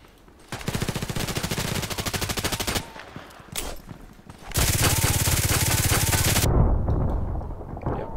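Sustained rapid-fire bursts in the online shooter Contract Wars, two long, dense strings of fast automatic shots separated by a brief pause, loud and close.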